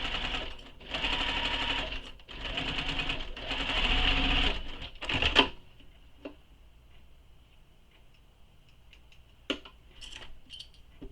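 Sewing machine stitching a bag seam, running in several bursts of steady rapid stitching for about five seconds, then quiet with a few faint clicks and taps near the end.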